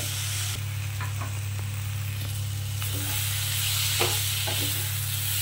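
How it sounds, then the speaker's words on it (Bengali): Spice masala sizzles and fries steadily in a pan for a shrimp and potato curry, with occasional scrapes and knocks of stirring over a constant low hum, close up and without talk. "আমি বাড়িয়ে কমিয়ে সুন্দর করে এভাবে কষে নেবেন, আপনারাও এভাবে কষে নেবেন।"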